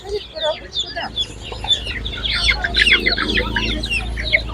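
A crowd of day-old chicks and chickens clucks and squawks busily at an outdoor animal market in Ukraine, many birds at once, with a low murmur of people and activity underneath.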